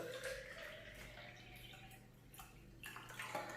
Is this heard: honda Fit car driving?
no